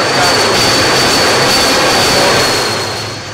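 An aircraft engine in Microsoft Flight Simulator X drones loudly and continuously at close range, a steady roar with a high whine that eases slightly at the end.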